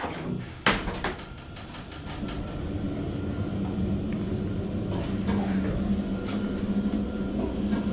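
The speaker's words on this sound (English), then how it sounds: "Hear the generator." The motor-generator of an almost original 1963 General Traction elevator hums steadily in a building, starting after a door clunk and a couple of clicks, then running as a low, rumbling whir that swells slightly and holds.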